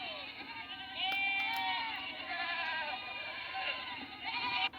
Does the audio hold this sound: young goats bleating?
yes